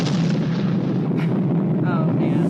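A nuclear explosion in stock footage from a James Bond film, The Spy Who Loved Me, heard as a sustained loud, dense rumbling roar that fills the whole clip without letup.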